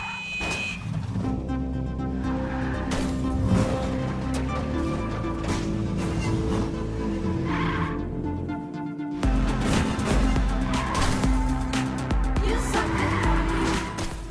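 Cars screeching and skidding in the wacky driving puzzle game You Suck at Parking, repeated tire squeals over a revving engine and upbeat game music, with a sudden cut partway through into another loud burst of action.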